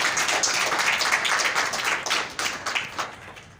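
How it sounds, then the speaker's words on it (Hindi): An audience at a school prize-giving event claps steadily to welcome the deputy district education officer, a dense, continuous wash of many hands close by that carries on for several seconds and eases slightly toward the end. "एक बार फिर से आदरणीय डिप्टी डीओ मैडम कल्पना रंगा जी का तालियों के साथ स्वागत किया जाए"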